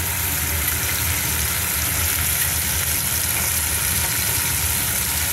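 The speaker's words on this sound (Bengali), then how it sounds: "তো আলুগুলো ভেজে নিই।" Small cut potato pieces coated in salt and turmeric fry in hot oil in a pan, a steady loud sizzle that continues evenly throughout with no talk.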